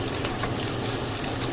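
Water pouring into a pan while crab is being cooked, a continuous loud close gush of liquid with no speech.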